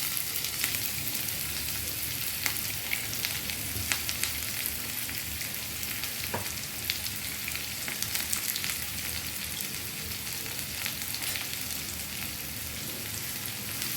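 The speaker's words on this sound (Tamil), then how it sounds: "அது அப்படியே நல்லா ஃப்ரை ஆகிட்டு வரட்டும்." Three small chopped shallots fry in a hot pan for a Kerala chicken stew, giving a steady close crackling sizzle with occasional pops, constant throughout and without speech.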